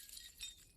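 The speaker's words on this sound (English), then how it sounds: "you can break pots." Ceramic pot smashed in the video game Resident Evil Village: a brief, fairly faint glassy crash with bright clinking shards, heard alone.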